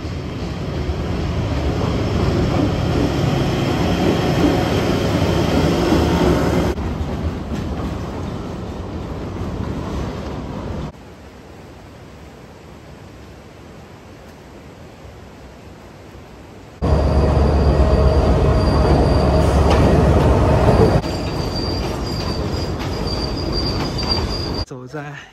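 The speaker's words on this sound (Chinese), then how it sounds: "火车头过去了。" A locomotive rolls along the railway tracks through the town below Machu Picchu at night, a loud sustained rumble with squealing wheels that swells, fades, then returns close before easing off.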